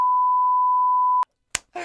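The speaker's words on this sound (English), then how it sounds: "So you're gonna bleep it?" A loud censor bleep holds as one steady, pure tone for just over a second, then cuts off sharply before brief clicks and a voice follow.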